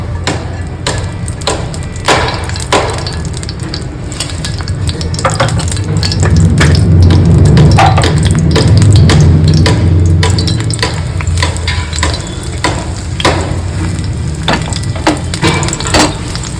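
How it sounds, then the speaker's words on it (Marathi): Ghee heating in a pan for shallow-frying bread slices for shahi tukda, with a low steady sizzle under repeated wooden stirring knocks and scrapes close by, swelling in the middle and easing off toward the end. "इकडं मी आता ब्रेड तळून घेणार आहे तर त्याच्यासाठी तूप टाकते"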